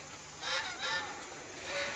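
Geese honk outdoors in a village setting, two or three nasal calls close together, moderately faint over a steady background hiss.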